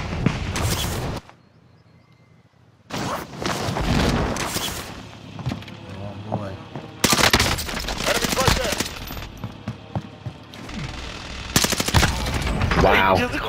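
Gunfire in a shooter video game, bursts of rapid automatic shots and sharp cracks coming in loud clusters separated by brief quieter gaps, with a sniper firing from a house, under occasional talk.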